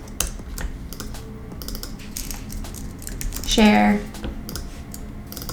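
Computer keyboard typing while renaming variants in Figma: quick, light key clicks in irregular bursts, close by, under a man's ongoing speech, with a brief tonal chime near the middle.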